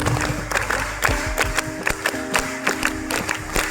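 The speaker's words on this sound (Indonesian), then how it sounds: "tepuk tangan untuk kita semua" Several people clap together in short irregular bursts, a light patter of hands rather than sustained applause, with no voices over it.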